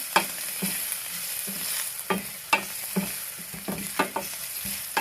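Finely chopped garlic frying in oil over very low heat for banana flower sabji, a soft sizzle under repeated sharp stirring and scraping strokes; no one speaks.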